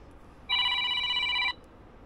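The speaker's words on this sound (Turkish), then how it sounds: "telefon açılmıyorsa neden ısrarla aranıyor anlamış değilim." A mobile phone rings with a single bright electronic tone burst lasting about a second, clear and close against quiet background.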